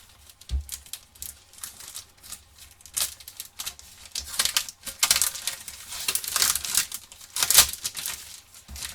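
Smurfs sticker sachets are torn open, the foil packets crinkling and ripping close up in repeated bursts of crisp tearing and rustling.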